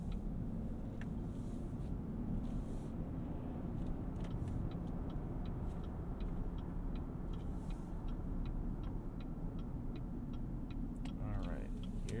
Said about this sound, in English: testing out the on-ramp acceleration